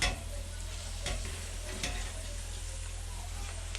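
Fresh spinach goes into a hot pan of meat and onions cooked down for Turkish boraniye, a steady loud sizzle with a few scraping stirs and a low constant hum underneath.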